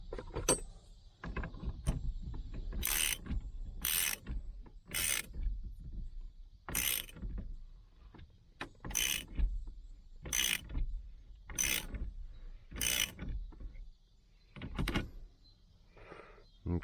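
A nut being tightened on a pulley installer tool while a power steering pump pulley is fitted on a GM vehicle, giving sharp, regular clicks at about one-second intervals, close and distinct, with faint workshop sounds between them.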